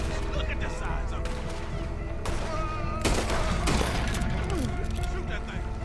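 Gunfire aimed at a large alligator in Red Dead Redemption 2: several loud, close shots and bursts, mixed with splashing commotion and game noise, heard under people speaking.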